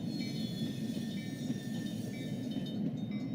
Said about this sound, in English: it seems like this train is moving awfully fast through this town